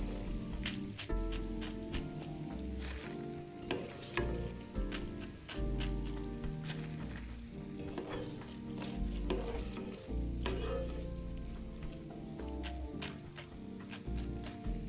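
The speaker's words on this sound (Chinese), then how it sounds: "好了，油炸至这状态就可以了，不要油炸至颜色太深" Crispy dried-shrimp rolls deep fry in oil with a quiet, steady sizzle and light bubbling, heard faintly under background music.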